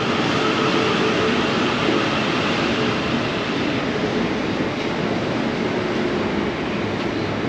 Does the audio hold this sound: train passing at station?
yes